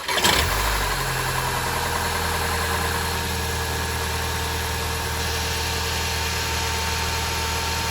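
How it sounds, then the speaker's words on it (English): A car engine cranks and catches with a sharp burst in a home driveway during a DIY oil change. It then settles into a steady, even idle that continues alone for several seconds. "So we're going to start the engine, check for those things"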